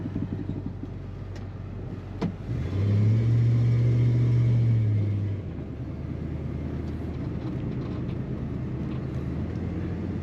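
A 1964 Ford Fairlane 500 two-door hardtop drives along a road, steady low engine rumble heard from inside, swelling into a louder droning surge for a few seconds before settling back to a steady cruise.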